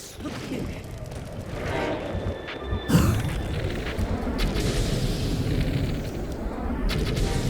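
Muffled booms and blasts from enemy explosions in The Legend of Zelda: Breath of the Wild burst repeatedly over a dense, rumbling wash of game noise and music.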